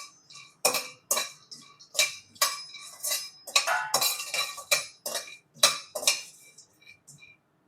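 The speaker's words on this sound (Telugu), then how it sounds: "ఎండు కొబ్బరిని చిన్న ముక్కలుగా కట్ చేసుకోవాలి." Dry coconut is cut into small pieces. Rapid, irregular knife chops knock against the board one after another, each a bright clicky hit, close up and with no voices.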